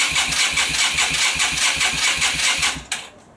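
A Yamaha Virago 250 motorcycle engine cranks over in a fast, rhythmic pulsing churn for nearly three seconds, loud and close, then cuts off abruptly.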